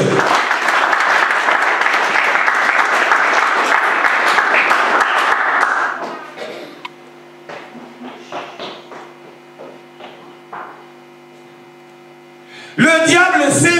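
A church congregation at a sermon bursts into dense, loud applause for about six seconds, then it fades into scattered claps and quiet before a voice resumes speaking.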